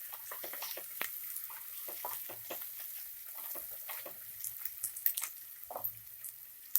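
Onions fry in a pan with kasuri methi added, a steady close sizzle scattered with small crackles and stirring scrapes, growing busier and spikier toward the end, with no talking.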